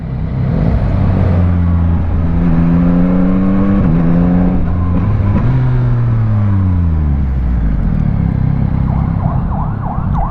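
Yamaha MT-09 three-cylinder motorcycle revving hard close by, rising and falling pitch sweeps through several blips, loud and alone.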